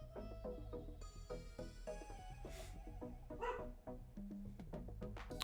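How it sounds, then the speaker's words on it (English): A dog barks repeatedly in a home setting, short barks and yips in an irregular rhythm, fairly near and steady in level, heard alone without talk. "I had to go and deal with my dog, who of course was barking at nothing for no reason"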